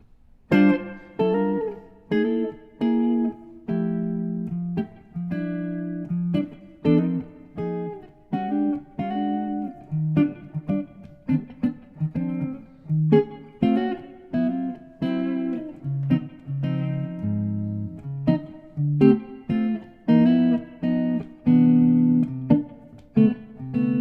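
Guitar chords and plucked melody notes played with hybrid picking, pick and fingers mixed in a lively, syncopated rhythm, some notes clipped short and others ringing longer, played alone without talking.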